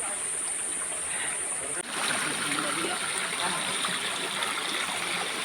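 Stream water flows and rushes steadily at Asheri fort, a broad, continuous wash of noise that swells slightly louder after a brief dip, with no voices.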